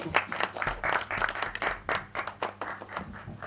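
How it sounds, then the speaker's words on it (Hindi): An audience at a film trailer launch event for Hotel Milan breaks into applause, a steady patter of many hands clapping with uneven surges, fairly close and alone with no talk over it. "जोरदार तालियां।"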